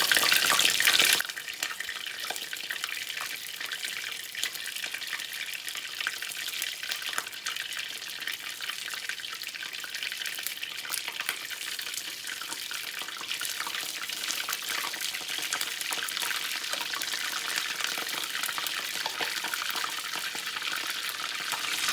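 Cream cheese wontons deep fry in hot oil, giving off a dense, steady bubbling hiss that runs unbroken and close throughout, with no speech.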